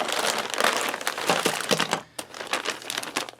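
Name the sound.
undoing a stapled plastic bag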